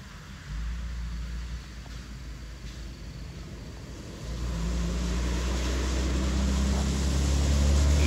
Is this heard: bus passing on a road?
yes